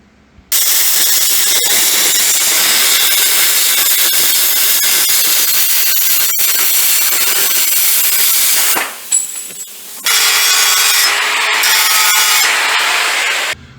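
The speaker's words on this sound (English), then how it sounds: "So let me get to trimming on this and see if I can't get it to fit up here a little bit better" A tool trims a Mustang II front suspension part to fit, giving a loud, steady, close-up cutting or grinding drone that drops out briefly and then resumes until the end.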